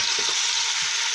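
Boneless chicken pieces fry in a spoonful of oil for chicken corn flour soup, giving a steady bright close sizzle with faint stirring scrapes underneath.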